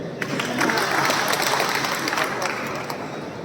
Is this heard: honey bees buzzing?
no